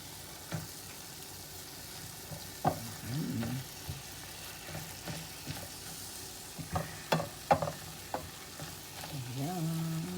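Chayote sizzles in a frying pan with a soft, steady fry, broken by scattered clinks and stirring scrapes; moderately quiet and close, with no talk.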